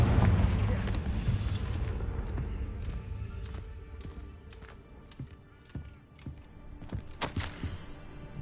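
Confringo explosive spell in the Hogwarts Legacy video game: a heavy blast booms loud at the start and rumbles away, then scattered smaller thuds and crackles sound near.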